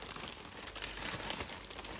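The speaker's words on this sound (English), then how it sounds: "Excuse the rustling. This is a live unboxing, rustles and all." Plastic packaging rustles and crinkles continuously up close while skeins of yarn are unboxed, a dense steady crackle with no talking.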